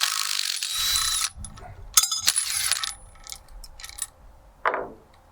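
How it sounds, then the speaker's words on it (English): A crescent wrench backs a top nut off threaded rod on a safe swap assembly, giving bursts of close metallic ratcheting clicks and clinks, with a brief scraping slide near the end. "we just take a crescent wrench and back off the top nut"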